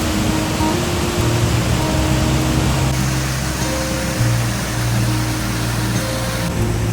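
Former Falls, a 56-foot waterfall framed by steep rock walls in Delaware Water Gap National Recreation Area, roars as a steady, dense broadband rush with low tonal hum underneath, continuous and fairly loud with no voices.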